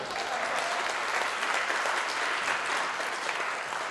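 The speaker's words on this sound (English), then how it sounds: "give them a round of applause" Audience applause at a Glasgow science slam, a steady, full crowd clapping that stays even and sustained from start to finish.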